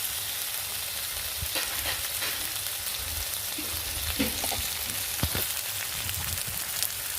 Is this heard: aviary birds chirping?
no